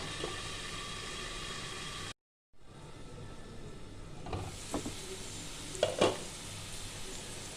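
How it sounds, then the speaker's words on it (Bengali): Faint, steady hiss of potatoes and onion frying in a covered pan, briefly cut off, then resuming with a few light clinks of a utensil. "আমি এটা ঢেকে ঢেকে দিয়ে ভাজছি যতক্ষণটা হালকা ভাজা হয়।"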